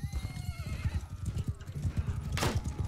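Horse in the medieval battle game Mount and Blade Bannerlord, rhythmic clip-clop hoofbeats throughout with a whinnying neigh layered in, followed by a brief sharp burst near the end.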